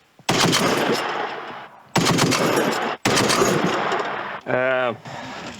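Rapid bursts of automatic gunfire, three long strings separated by brief pauses, loud and close, followed by a short shouted voice.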